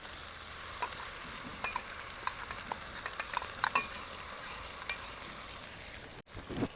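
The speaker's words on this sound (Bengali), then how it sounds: "সব কিছু একসঙ্গে মিশিয়ে কিছুটা সময় ভেজে নিলাম।" Taro stolons with salt, turmeric and ground spice paste sizzle softly in a pan. A spoon stirs them with scattered scraping clicks and taps over a steady low frying hiss, and no one speaks.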